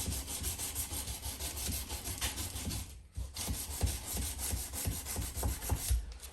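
A knife blade is hand-sanded with 220-grit paper in steady back-and-forth rubbing strokes, continuous and close, with one brief pause partway through.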